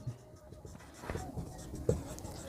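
Pen or chalk writing out the value of y during a Hindi-language class-10 maths lesson on the elimination method, a quiet scratchy stroke sound with soft faint talk in the background.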